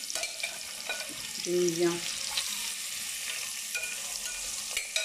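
Onions and mint sizzle as they fry in a pan and are stirred, with faint clinks and scraping over the crackle and a short spoken remark partway through.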